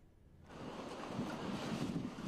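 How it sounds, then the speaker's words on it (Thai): Stormy sea surf pushing sea foam into a seaside town on the Spanish coast, a rising wash of roaring waves and wind that swells in after a brief quiet start. "คลื่นโฟมจากมหาสมุทรกำลังเข้าท่วมชายหาดทอซ่าเดอมาและไหลเข้าท่วมร้านอาหารบริเวณชายฝั่ง"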